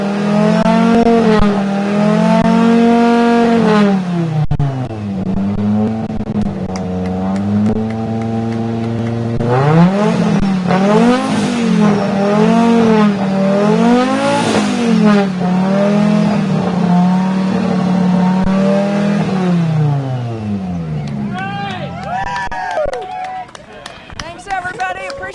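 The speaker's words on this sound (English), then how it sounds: "We had the cars all fire up." Race car engines rev hard at a Pikes Peak International Hill Climb 2022 gathering at Gold Hill Mesa, loud and close, pitch climbing and falling in repeated long sweeps before dropping away near the end.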